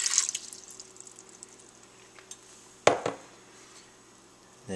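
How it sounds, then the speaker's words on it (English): Water is poured into the base of a Ninja Cooking System pot, starting as a bright splashing rush that fades to light trickles and drips, followed by a short clunk of metal, close and without speech. "you're going to add 4 cups of water to the bottom of the Ninja."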